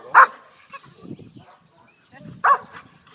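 A dog barks twice during agility and obedience training while climbing upward over mats. The two sharp, fairly close barks are about two seconds apart, with quiet human talk in between.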